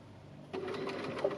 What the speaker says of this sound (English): We're stitching the body onto the gusset, not the gusset onto the body.